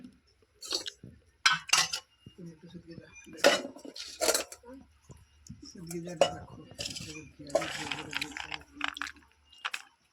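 Dishes being washed: pots, plates and cutlery clink and clatter in irregular bursts, close by, with short quiet gaps and a voice now and then.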